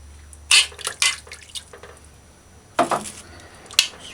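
Water is poured into a pot for a beef pot roast in several short splashing bursts with gaps between them, close and fairly clear, with faint dripping and clinks of the pot. Nobody speaks.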